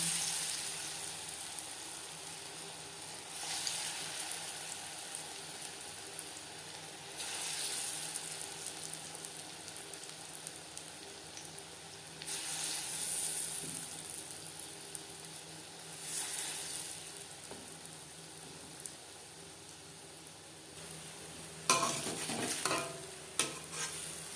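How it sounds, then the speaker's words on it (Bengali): Steady bubbling sizzle of lentil fritters deep-frying in hot oil on medium flame, swelling in waves, with a few sharper crackles and clinks near the end. "তেল আমি গরম করে নিয়েছি বড়া ভাজবো মিডিয়াম ফ্লেমে"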